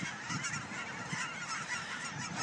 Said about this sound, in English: I'm about to go sneak up on some geese.